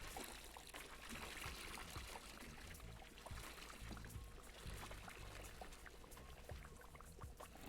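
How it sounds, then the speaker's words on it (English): Water pours in a faint, steady stream while brewing in the video game Brewmaster, topping a batch up toward 5.55 gallons, with no talk over it. "That way it's not just straight water I'm adding."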